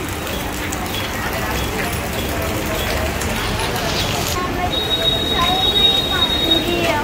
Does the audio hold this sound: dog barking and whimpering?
no